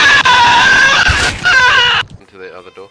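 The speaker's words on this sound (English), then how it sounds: "Scream out loud." A player's voice screams loudly in the survival video game Rust, a harsh sustained shriek of about two seconds, cut off abruptly and followed by a quieter sung or wailing voice.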